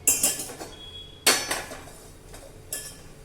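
A metal pot is set down on a gas stove, giving sharp clanking metallic knocks in three bursts with brief ringing tails, close by.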